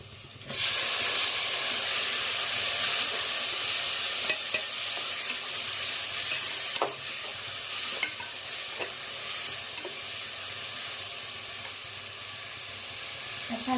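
Onions and tomato sauté in a pan with a loud, steady hissing sizzle that starts abruptly and continues throughout, broken by a few small clicks and stirs, with no talking.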